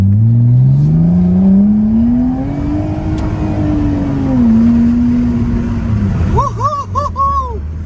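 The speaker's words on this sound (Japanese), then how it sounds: "音がどんだけ変わったのか、車の中から。" A deep, loud straight-pipe exhaust drone heard from inside an R33 Nissan Skyline rises steadily as the engine revs, then dips and settles into a rumbling idle.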